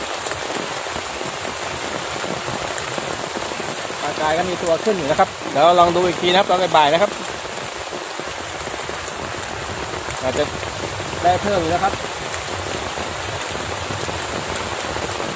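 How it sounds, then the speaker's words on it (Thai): Steady rain pours down outdoors during a fishing trip in a storm, a constant loud hiss of drops on the surface throughout while someone talks over it now and then. "ฝนตกครับ หนาวมาก ฝนตกทั้งวันเปียกทั้งวันเลยวันนี้"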